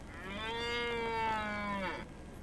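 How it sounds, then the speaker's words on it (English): Cow-like animals in the New Zealand or Australian countryside give one long, loud, clear moo that swells and then breaks off, with no talk over it. "they sound like cows, but they certainly don't look like cows"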